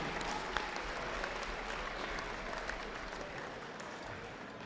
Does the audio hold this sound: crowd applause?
yes